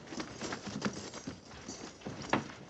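Several horses' hooves clop and patter on the ground as a cavalry detail of soldiers halts and dismounts, an irregular cluster of soft hoof strikes at moderate distance with no talk over it.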